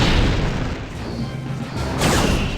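Rear torpedo tubes fire in the Star Trek Bridge Commander space combat game, producing a deep rumbling boom that swells, dips, then surges again in a second heavy blast within a few seconds, loud and close with no speech.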